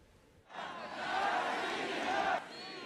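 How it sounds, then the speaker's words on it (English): A large crowd in Moscow chants "Russia, Russia" in unison, a sustained roar of massed voices that swells for about two seconds and then cuts off. "In Moscow, the crowds chanted, "Russia, Russia.""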